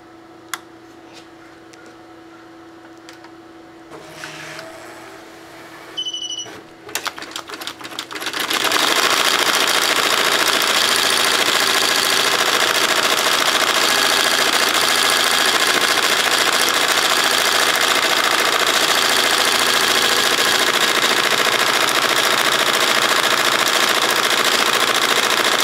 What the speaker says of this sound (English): today we're going to be embroidering on a nylon shell jacket